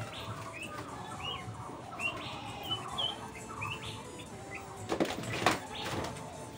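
Caged doves and pigeons give soft chirps and coos at low volume, with a few clanks or rattles of the cage midway.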